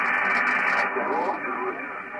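Amateur radio voice transmission on a mobile station link from France into Tenby, Wales, with a rushing, noisy band-limited signal that swells and fades throughout, steady and continuous.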